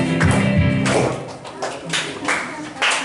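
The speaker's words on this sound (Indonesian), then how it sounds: "Sekali lagi tepuk tangan buat Tuhan kita Yesus." Congregation at a church retreat clapping in uneven bursts, several separate rounds of hand claps rising and fading, with a voice speaking over them.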